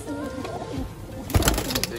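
Soft, low cooing of Asmani pigeons close by, followed by a brief burst of fluttering and rustling near the end.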